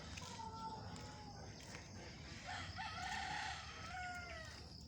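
Chickens cluck and crow in an outdoor setting, with a rooster call standing out over steady background noise and birds.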